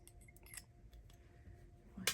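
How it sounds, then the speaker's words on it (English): Scissors snipping paper while a journal is crafted from a kit, a few quiet close cuts in a near-silent room ending with a sharper snip. "My favorite scissors."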